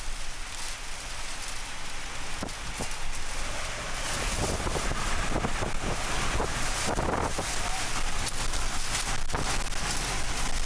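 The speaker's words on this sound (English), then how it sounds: "the inflow jet violently rocks my car back and forth" Strong tornado inflow wind buffets and rocks a car during a storm chase near Gary, South Dakota, a loud, steady roar of wind and rushing air against the vehicle with gusty swells and occasional thumps, no talk.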